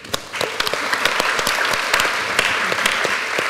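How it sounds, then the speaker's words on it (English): Big audience applause at an architecture talk evening, dense overlapping claps sustained and fairly loud throughout, with no voices over it. "So a very big applause for Lucia Pietro Justi."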